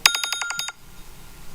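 An alarm buzzer sounds during a test in a meeting room, a rapid series of about seven sharp electronic pulses lasting under a second, then quiet room tone.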